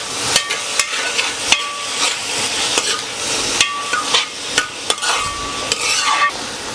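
Spatula strokes scrape and clack against a pan as beef is stirred for a Kerala-style beef dry roast, sharp irregular knocks over a steady sizzle, close and loud with no talking.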